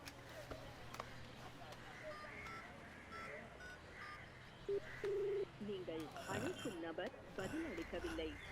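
Telephone keypad tones sound as a phone number is dialed, with several short beeps, followed by a ringing pattern, all faint beneath people talking.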